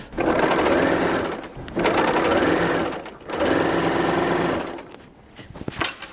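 A sewing machine stitches a pocket into a knit dress in steady rapid bursts, three long runs of buzzing needle rhythm separated by short pauses, close and clear with no talking.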